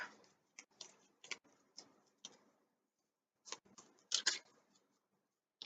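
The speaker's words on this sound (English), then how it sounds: "Okay, so I'm shuffling the deck." A deck of cards is shuffled in a quiet room, with a series of soft, brief riffling taps and flutters separated by short gaps and a louder burst near the end.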